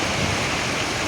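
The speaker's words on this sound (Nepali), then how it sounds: "खोलामा कति मजाले पानी बगिरहेको छ हेर्नु होला।" A river in Jhapa flows steadily, its broad rushing wash of water filling the short moment with constant, even noise and no voices.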